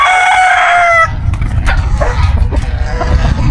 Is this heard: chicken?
yes